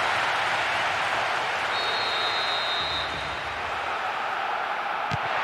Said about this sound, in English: The stadium is shaking because they're jumping up and down, making so much noise.